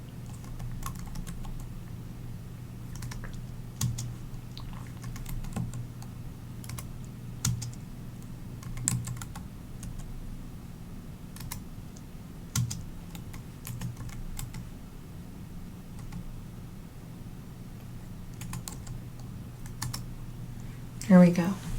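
Typing on a computer keyboard while working in SPSS: soft, scattered key clicks and brief bursts of taps over a low steady hum, with a louder clatter near the end and a voice talking at times.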